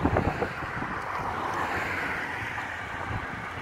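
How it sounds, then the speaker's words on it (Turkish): Steady wind blows across an open seaside spot in Samsun in February, a broad continuous rush with a gusty burst at the start, alone with no talk. "Rüzgar ne güzel esiyor, hava serin."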